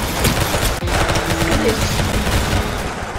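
Video game gunfire rattles in rapid automatic bursts, loud and close, with dense repeated shots filling the whole moment.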